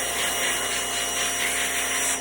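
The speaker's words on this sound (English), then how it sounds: "Remember, pressure washer." A pressure washer sprays aluminum window screens, giving a steady, loud hissing rush of water with a constant broadband spray tone and no breaks.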